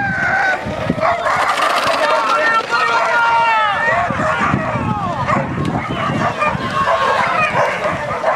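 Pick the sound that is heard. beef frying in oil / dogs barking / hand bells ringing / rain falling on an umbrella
dogs barking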